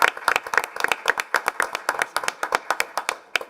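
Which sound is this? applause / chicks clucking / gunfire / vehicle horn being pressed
applause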